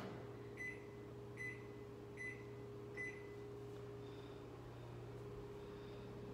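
A running microwave oven heard from five or six feet away gives a steady low hum, with four faint evenly spaced clicks or chirps near the start. No one speaks.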